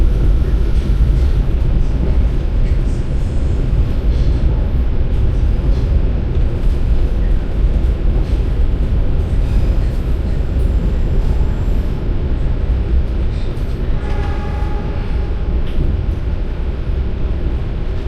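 Passenger train running on the railway line to Cilacap, heard from inside as a loud steady rumble and clatter of wheels on track that continues unbroken.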